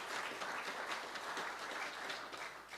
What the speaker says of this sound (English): I think we should give a round of applause for our sport people